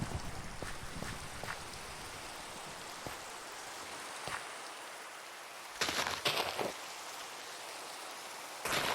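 Steady rain falls during a Minecraft thunderstorm, a constant hiss of drops with a few brief louder crackling bursts from lightning strikes near the end.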